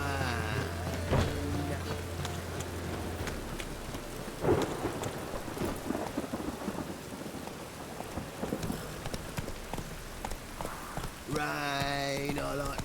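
Steady rain and rolling thunder in the Witcher 3 video game, a continuous downpour with deep rumbles, a sharp crack near the middle and a brief tonal game sound at the end.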